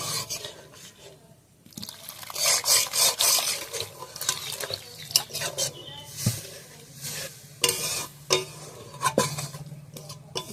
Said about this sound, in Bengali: এবার আমি কিন্তু জল দিয়ে দেবো। অল্প করেই জল দেবো।